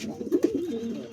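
Malbahi pigeons in their coop giving soft, low, close cooing calls in a short burst of a few throaty notes.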